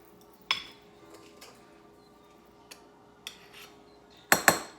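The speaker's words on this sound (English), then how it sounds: "I'm going to use the back of the knife to level it." A knife scrapes and taps against a measuring cup in a quiet kitchen, giving a few sparse clinks and a sharp double clatter near the end, heard close up with no voices.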